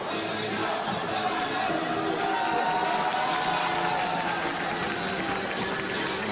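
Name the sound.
crowd of Uzbek supporters cheering at a boxing match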